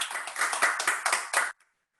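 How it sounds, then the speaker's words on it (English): Live audience at a cooking class clapping for a presenter, a dense burst of many hands lasting about a second and a half, with several louder surges, then stopping abruptly into near silence. "Give a round of applause for Sarah."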